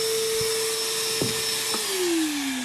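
DeWalt 9 gallon wet/dry shop vacuum running with a steady loud whine and airflow roar, its pitch dipping near the end, with a couple of brief knocks.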